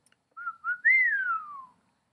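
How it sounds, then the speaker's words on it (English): A single human whistle in a children's sky dragon story, rising quickly then gliding slowly downward in a clear, fairly loud tone lasting over a second, heard alone. "She gave a whistle"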